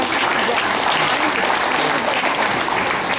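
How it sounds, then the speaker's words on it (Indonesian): Dense, steady applause from a large crowd fills the hall at the new Catholic cathedral in Tanjung Selor, a continuous wash of many hands clapping at an even level throughout. "kita beri tepuk tangan untuk tempat ini"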